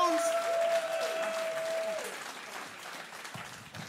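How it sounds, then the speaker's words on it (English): A comedy club audience applauds and cheers at a stand-up show, a dense burst of clapping that begins loud and gradually tapers off. "Everyone else, big cheer."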